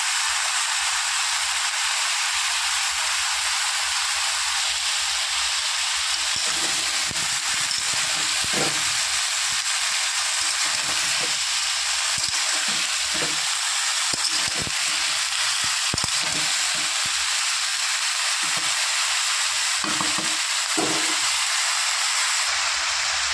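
Mixed vegetables fry in a kadai with a steady, loud hiss throughout, while scraping and clinking stirring knocks start partway through and repeat irregularly over the sizzle.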